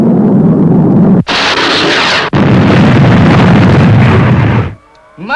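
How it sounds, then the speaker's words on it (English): A missile explosion from a sci-fi puppet space series: two loud, roaring blasts, the first a brief burst followed after a short gap by a longer sustained rumble that cuts off abruptly, with no talk over them. "Blast missile effective."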